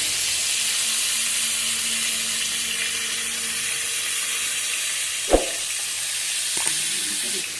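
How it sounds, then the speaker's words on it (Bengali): Fish frying in a pan, a steady hissing sizzle that holds evenly throughout, broken by one sharp knock and a fainter clatter near the end; no one speaks. "যে মাছ ভাজা হচ্ছে, রান্না হবে।"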